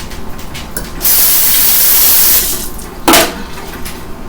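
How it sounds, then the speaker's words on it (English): Hot kitchen tap water running to rinse utensils: a loud, steady rush of water for over a second, then a brief clatter and splash as the utensils are rinsed. "Make sure you always rinse your utensils out so that it doesn't create cross-contamination."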